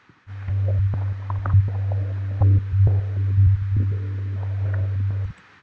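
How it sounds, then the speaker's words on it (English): A steady low synth drone sustains throughout, passed through an auto filter driven by a random LFO, producing shifting blips and wobbling tones over the held note. "the first one is this auto filter"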